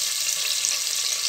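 A halved onion hits hot oil with cumin seeds in a pan, a steady, bright hiss of frying that fills the space, close and continuous.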